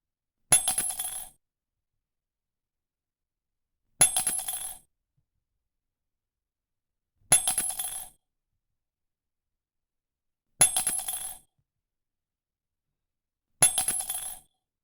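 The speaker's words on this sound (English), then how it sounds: "listen for the coins as we take them out" Coins drop out of a piggy bank one at a time, five separate metallic clinks and rattles spaced about three seconds apart, each fairly sharp and close, with silence between them.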